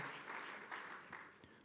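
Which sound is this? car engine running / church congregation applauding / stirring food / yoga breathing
church congregation applauding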